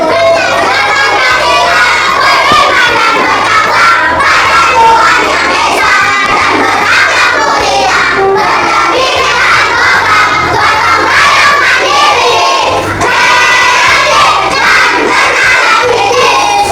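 A class of schoolchildren sings the Pelajar Pancasila song together, loud and shouty. The massed young voices run continuously and close up, with no pause.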